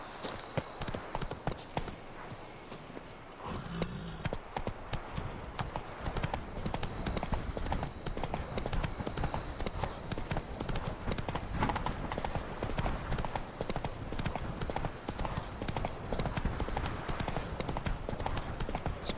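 Rapid clip-clop of a horse galloping in The Witcher 3: Wild Hunt, Blood and Wine expansion, a steady loud hoofbeat rhythm continuing for the whole stretch over a game soundscape, with an occasional whinny.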